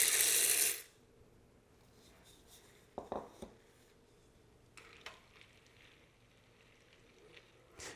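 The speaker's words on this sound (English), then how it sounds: "once our stock comes back up to a simmer, it's time to add in our beans" Dry beans go into simmering stock in a pot for red beans and rice: a brief loud rushing pour at first, then a quiet simmer with a few soft clinks and taps.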